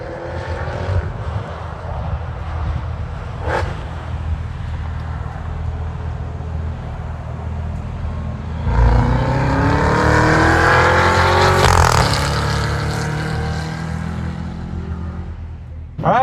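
A 2025 Cadillac CT5-V Blackwing Precision with manual gearbox drives on a track, its engine droning along and then surging loudly near halfway as revs climb sharply through the gears, heard close from inside with no talk.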